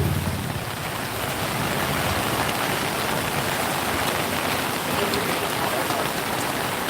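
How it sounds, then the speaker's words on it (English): Heavy rain pouring down on a Bangkok street during a rainy morning, a dense, loud, unbroken hiss of drops hitting surfaces close by. "there's always a way to get out of the rain"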